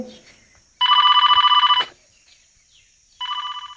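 A telephone rings loudly and close by in two trilling bursts with a short silence between them.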